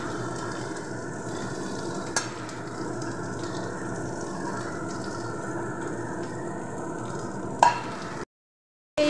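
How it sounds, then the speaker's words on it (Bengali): Potatoes, jackfruit seeds and other vegetables for a drumstick-stem curry fry in hot oil, giving a steady, close sizzle throughout with a couple of brief clicks and stirring knocks. "সব সবজিগুলো আমি একই সঙ্গে ওই তেলের মধ্যে একটু ভাজা ভাজা করে নেব"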